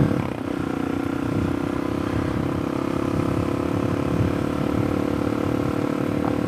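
Suzuki DRZ400SM supermoto motorcycle being ridden: a steady, close single-cylinder engine drone holding a fairly even pitch throughout, with rough, buzzy texture and no talking.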